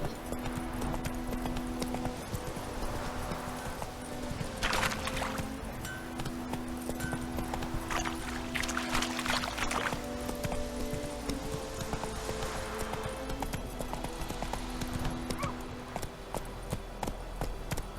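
Hooves of Roach, a horse in The Witcher 3, clip-clop at a steady walking pace, mid-distance and moderately loud, over low ambient game music and faint background sounds, with no talking.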